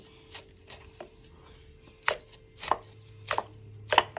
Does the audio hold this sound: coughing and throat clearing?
no